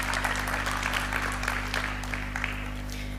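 An audience applauds at a session of a Punjabi literary festival in Lyallpur, a steady patter of clapping that runs throughout over a low background hum.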